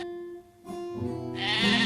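A sheep bleats in a single drawn-out, wavering call, close and fairly loud, swelling toward the end with no speech.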